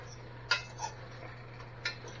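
A utensil stirs Jamaican brown stew chicken in a pot, giving a few light metallic clinks and scrapes against the pot over a low steady hum, with no talking.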